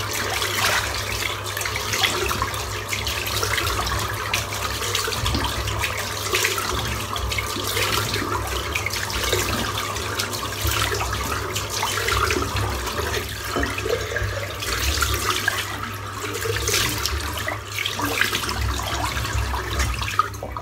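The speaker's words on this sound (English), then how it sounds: "And then I rinse away about 5 litres of water just to dry and wet my head." Running tap water rinses a freshly shaved head at a bathroom sink, a steady, close, continuous splashing and hiss that holds at an even level throughout with no talking.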